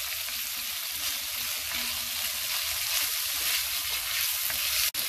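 Prawns fry in a hot pan with a steady, dense sizzle that holds without pause, close and fairly loud, with one brief sharp clatter near the end.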